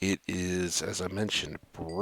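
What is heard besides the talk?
No everyday noises stand out.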